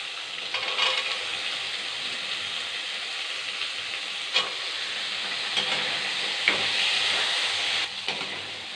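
Potatoes and washed green field beans sauté in a pan with a continuous moderate sizzle. A few sharp spatula scrapes and clicks are scattered through it.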